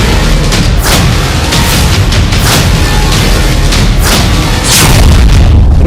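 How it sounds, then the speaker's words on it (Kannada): Fuel tankers blown up on a bridge in the Russia-Ukraine war burn after the explosion, a loud, dense, continuous roar broken by repeated booming surges and rising toward the end. "ಭೀಕರ ಸ್ಫೋಟಕ್ಕೆ ಹೊತ್ತಿ ಉರಿದ ಟ್ಯಾಂಕರ್ಗಳು"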